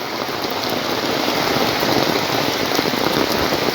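Steady, loud downpour of heavy rain, a thick continuous hiss of water hitting surfaces close by, with no speech or other sounds breaking through.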